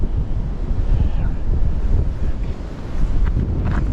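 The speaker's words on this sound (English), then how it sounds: "I don't know if you can hear it, but that wind's picking up big time." Strong wind buffets a microphone beside the water during a ride on a Jasion Patrol electric bike, giving a loud, continuous low roar and rumble with gusts swelling and easing throughout.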